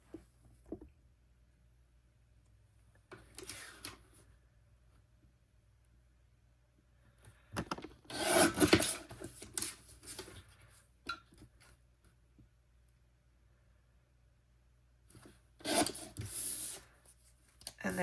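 Paper card edge trimmed for a handmade Valentine card, heard as a few separate bursts of rasping cutting strokes with quiet pauses between them and no talking.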